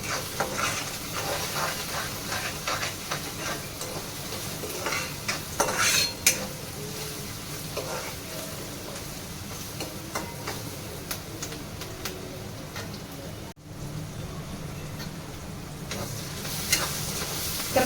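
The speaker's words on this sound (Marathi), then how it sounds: "कांद्यामध्ये आपण चवीनुसार मीठ टाकूया थोडीशी हळद टाकूया आणि एकत्र करून घेऊ" Onions frying with salt and turmeric for baingan bharta, being stirred in a metal pan: a continuous sizzle under frequent scraping and clinking of a spoon against the pan, close and busy throughout.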